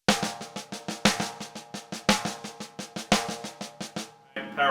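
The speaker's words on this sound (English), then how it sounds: "Paradiddle-diddle, paradiddle-diddle, right?" Left-handed paradiddle-diddle sticking played as fast 32nd-note phrases on a drum, a tight rapid run of stick strokes in repeating accented groups, close and alone until a brief different hit at the end.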